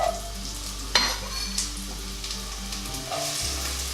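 Onions hitting a hot Dutch oven on medium heat for cowboy chili, a steady close sizzle with a sharp clatter near the start and a few scrapes, no voices.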